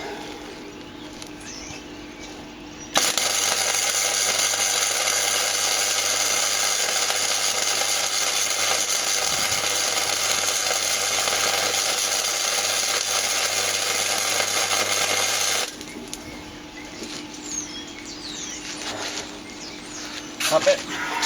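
Electric welding of a motorcycle rack onto the back of a short bus: a steady, loud crackling buzz holds for about thirteen seconds and then stops abruptly, with quieter workshop noise before and after.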